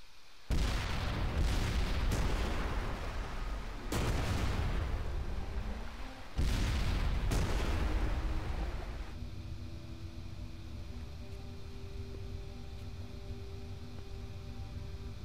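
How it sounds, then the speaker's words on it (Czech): Series of loud, booming explosions as a German navy ship sinks in the WWII shooter game Enemy Front, several heavy blasts fading into a lingering low rumble and ringing tones. "Vychutnejte si nádherný ohňostroj, uklidňující, že když jde kus německého námořnictva ke dnu."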